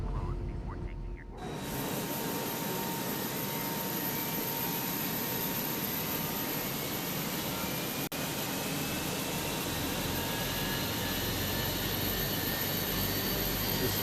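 Jet engines of the Fenix A320 in MSFS 2024 roar as a loud, steady broadband rush with a faint rising whine, holding constant after a quieter opening second.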